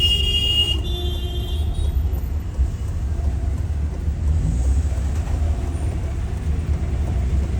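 Heavy road traffic rumbles steadily throughout, with cars passing along a busy street outside an old walled house; a continuous loud low drone with no talk heard.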